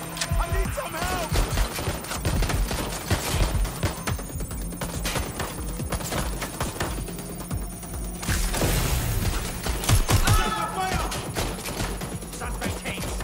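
Gunfire rattles in bursts during a shootout in Watch Dogs: Legion, with dense shots and booms throughout alongside game noise and voices talking over it.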